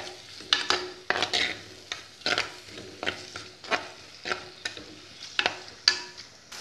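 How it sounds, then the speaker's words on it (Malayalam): Crushed dried red chillies and other ingredients sautéed in a pan, with repeated scraping stir strokes and a steady light sizzle underneath, close and moderately loud, no talking. "ഇത് മുഴുവൻ ചേർത്ത് കൊടുക്കാം. എന്നിട്ട് നല്ല പോലെ ഒന്ന് വഴറ്റിയെടുക്കാം."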